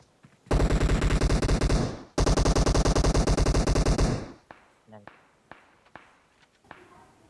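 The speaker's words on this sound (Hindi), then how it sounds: "तुरंत हमें कहीं दूर एक बॉट की फायरिंग की आवाज़ आई" Automatic gunfire from a bot in the PUBG Mobile video game, two long loud sustained bursts followed by scattered single shots and thuds; a voice may be present.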